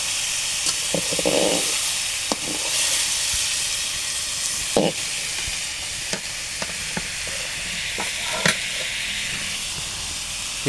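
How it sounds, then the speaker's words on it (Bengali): Ash gourd frying in a pan keeps up a moderate, continuous sizzle while it is stirred, and spoon or utensil scrapes and knocks land at irregular intervals over the frying. "একটু আমিও নেড়ে চেড়ে দিই বা হাত দিয়ে।"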